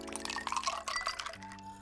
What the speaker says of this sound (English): I threw some ice cubes in.